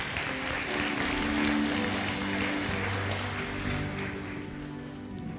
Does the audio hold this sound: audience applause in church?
yes